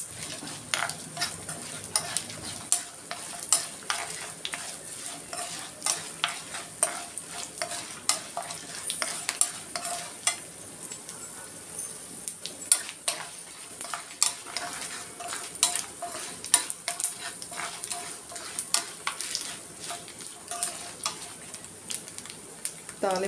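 Tempering spices with asafoetida crackling in a pan, a continuous faint sizzle punctuated by frequent spatula stirs and metallic clinks against the pan, with no talk.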